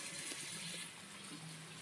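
Meat curry pours steadily into a pressure cooker holding fried papaya and potato, a continuous close wet gushing that softens slightly partway through.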